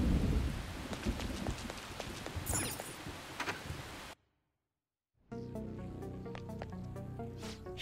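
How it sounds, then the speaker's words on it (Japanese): Heavy rain pours steadily in the game Persona 5 Royal, a dense, loud hiss with scattered drops. It cuts briefly to silence, then returns with a rumbling, layered storm ambience. "ひでえ雨だな。"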